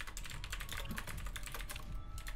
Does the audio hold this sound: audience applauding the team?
no